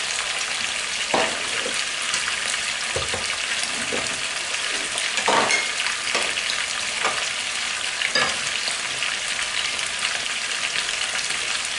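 Paella ingredients fry in a pan with a dense, steady sizzle and crackle, close and continuous, broken by occasional soft scrapes and pops, with no voices.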